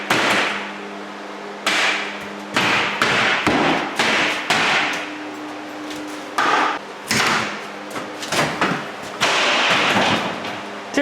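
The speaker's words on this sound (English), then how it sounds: "if you take your hammer and just bang on the top of this all the way around, it'll come out the other way" Repeated loud hammer blows bang on the top of a wooden door frame while it is knocked loose from the wall, coming in irregular bursts of sharp, close impacts with brief pauses between them.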